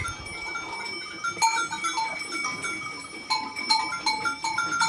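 Herd of goats roaming freely on open grazing land, with repeated bleats over a continuous ringing of bells, several animals calling at mid distance with no talk.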